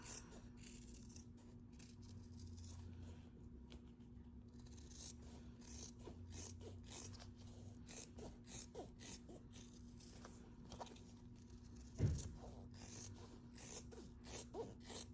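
Scissors snip through vinyl seam allowances on a crossbody bag, a run of soft repeated cutting and rubbing sounds over a faint steady hum, with one sharper thump near the end.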